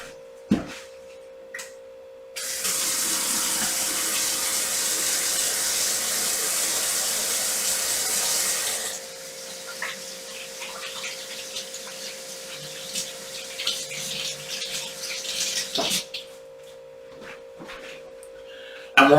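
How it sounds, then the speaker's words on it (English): Hands being washed under a running kitchen tap while making challah, a steady broadband rush of water for several seconds that then thins into lighter, uneven splashing and trickling. "So I've just touched some eggs, and I'll wash my hands real quick."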